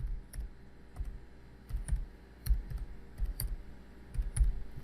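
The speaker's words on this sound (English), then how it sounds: "So I'm just going to type in the path" Keys on a computer keyboard are tapped in short irregular bursts, close and fairly quiet, with brief pauses between clusters of clicks and no talking.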